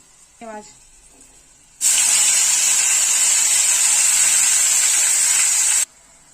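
Finely chopped spinach hits a hot kadhai and sizzles loudly, a steady bright hiss lasting about four seconds and then cutting off abruptly, with a brief clink just before it.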